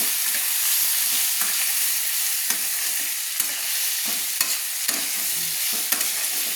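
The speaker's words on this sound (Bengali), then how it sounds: "এবার আমি দিয়ে দিলাম কচুগুলো, সিদ্ধ করা কচুগুলো দিয়ে ভালো করে নেড়ে নিচ্ছি" Boiled taro being stirred in hot oil in a pan while prawn and taro chingri is cooked, with a steady broadband sizzle broken by repeated scraping strokes and occasional sharp clinks of the spoon against the pan. No one speaks.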